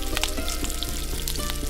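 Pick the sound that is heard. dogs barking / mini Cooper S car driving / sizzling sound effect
sizzling sound effect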